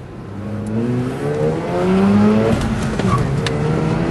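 A race car engine revs hard on the Oran Park circuit, its whining pitch climbing through the gears, loud and close, with no talk.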